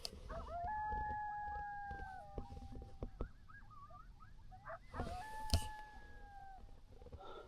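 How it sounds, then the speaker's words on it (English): A pack of coyotes howls and yips outdoors on a cold winter night at a campsite, with wavering sustained howls, choppy yelping and scattered clicks and knocks up close, moderately faint and without talk. "You can hear a bunch of coyotes."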